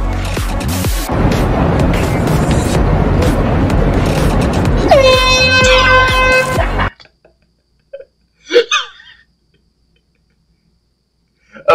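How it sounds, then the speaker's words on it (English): A loud, sustained air horn blares for several seconds in a prank, ending with a rising tonal honk, then cuts to near silence broken by a few brief, faint noises. "I have a little honking fest with a car."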